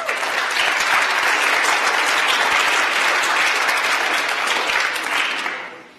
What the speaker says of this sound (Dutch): Dus graag een groot applaus voor Kees.